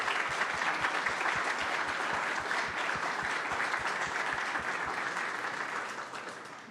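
An audience at a CyStarters Demo Day event gives a round of applause: brisk, continuous clapping with a steady low thump underneath, tapering off toward the end.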